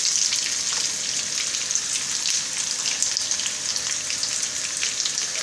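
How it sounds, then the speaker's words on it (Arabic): Potatoes sizzling steadily in a frying pan as they are turned, a continuous bright crackle of hot oil, close and even, with no talking. "هاد البطاطا مره كنقلبها بهذا الشكل"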